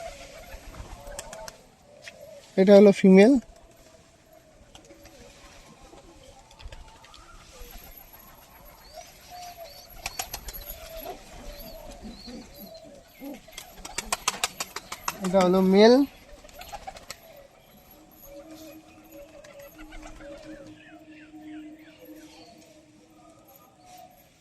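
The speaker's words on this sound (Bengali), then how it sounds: "তো এই এক জোড়া কামাগের পায়রা" A pair of Kamagar pigeons gives two short, loud bursts of cooing, one early and one later, while someone talks quietly nearby.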